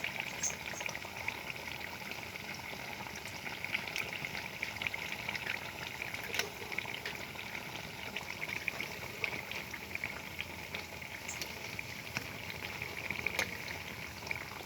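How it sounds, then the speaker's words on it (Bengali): Potato chops deep-fry in hot oil with a dense, even bubbling hiss that stays close and steady throughout, with no voices. "চপটা ভালোভাবে ভাজা হয়ে যাবে আর ভেতরটাও ভাজা হয়ে যাবে"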